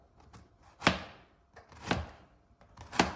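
Knife chopping bitter gourd (kakarakaya) into round pieces about an inch thick on a board, three sharp distinct cuts spaced roughly a second apart, close and clear.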